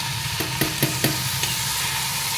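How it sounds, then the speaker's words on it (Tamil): A spatula stirs fried brinjal coated in kaai podi spice powder in a pan, giving several distinct scraping knocks over a steady, close oil sizzle, with no voices. "இதையும் நல்லா மிக்ஸ் பண்ணி விட்டுட்டு போகிறோம்."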